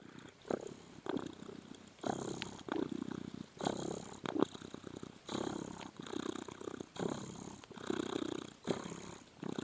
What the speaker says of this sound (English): Did you hear her purring?